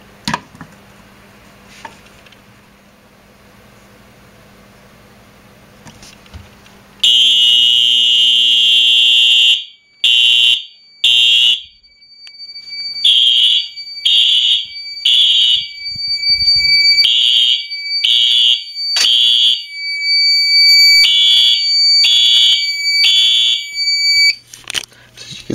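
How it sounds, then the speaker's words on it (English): A loud, piercing smoke detector alarm, set off with a magnet during a new alarm system test, beeps in a repeating pattern of short bursts, after a quiet stretch of faint room noise. "we're going to set off the smoke detector with my magnet here"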